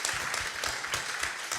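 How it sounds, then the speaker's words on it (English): Applause from a meeting audience thanking the team, a dense, fairly quiet patter of many hands clapping steadily throughout the short stretch. "I want to give you guys a round of applause before we go to the question and answer"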